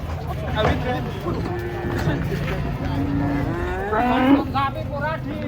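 Huge cows stepping down off a truck, bellowing moos rising and falling several times amid steady crowd noise and nearby voices talking.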